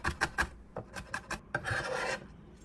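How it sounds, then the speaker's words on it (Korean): Knife mincing green onion for a cabbage side dish on a cutting board, a run of quick close chops followed by a longer rough scraping stretch, loud and alone with no talking. "나물에 들어갈 파를 다져주세요."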